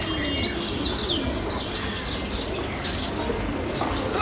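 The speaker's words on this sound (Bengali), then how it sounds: "এখানে আপনারা দেখতে পাচ্ছেন ব্রিডিং রুমে বেশ কিছু কবুতর" Racing pigeons in a breeding loft give soft, repeated coos and faint chirps over a steady room hum, with an occasional rustle of wings, fairly close and without talk.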